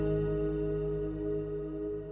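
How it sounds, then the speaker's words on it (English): Sustained, shimmering reverb tail from an Eventide Blackhole plugin with modulation depth applied, steady droning tones that waver gently and fade slowly, alone with no voices. "Mod depth sets the modulation depth in the reverb tail."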